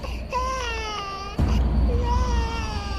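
An infant cries in two wailing bursts in a TV drama scene, the second louder and rougher. The voice is high and strained, with a low rumble beneath.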